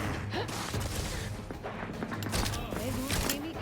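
Gunfire from a weapon in The Outer Worlds 2, with rapid bursts of shots and mechanical clatter over a busy combat soundscape, plus low game noise throughout.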